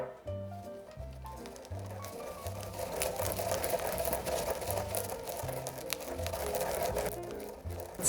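Bay leaves and spices being ground into a spice blend in a kitchen grinder, a steady, fairly loud whirring and rattling grind that runs throughout with a rhythmic low pulsing.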